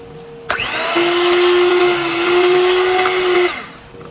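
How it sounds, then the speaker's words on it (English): A blending machine whirs for about three seconds, mixing a homemade hair growth butter; the start is sudden, the motor hums loud and steady, then it winds down, with no voices. "we're just going to blend. This is my blending machine or mixing machine."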